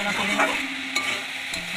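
Water spinach (kolmi shak) sizzles softly in a pan while being stirred, a short, close, low-level frying hiss with a few scraping clicks.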